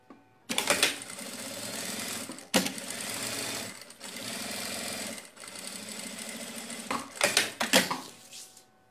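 A sewing machine runs in steady bursts while topstitching the seam of a sack-style bag, whirring loudly and close with brief pauses between runs and no talking.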